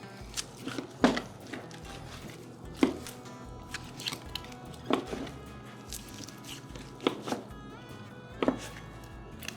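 A knife trims meat from a deer hindquarter during home butchering, giving about five sharp, close cutting and tapping strikes spaced roughly two seconds apart over a quiet background, with no talking.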